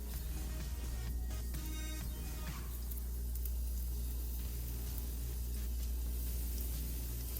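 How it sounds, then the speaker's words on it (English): Lightly breaded shrimp pan-searing in a skillet, a quiet, steady sizzle of frying with a few small clicks and stirring noises early on. "Start our shrimp to cooking."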